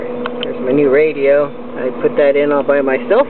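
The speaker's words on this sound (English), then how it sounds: "That noise you're hearing is the electric fan." An electric cooling fan runs in a classic Mini car, a steady low whir sitting beneath someone talking close by for the whole stretch.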